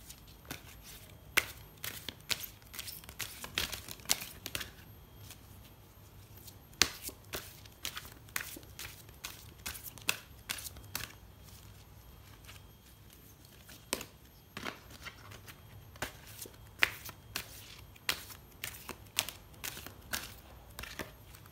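Oracle cards are shuffled by hand before one is drawn, making repeated soft slaps and riffling flicks at an irregular pace, close and quiet, with brief lulls between bursts.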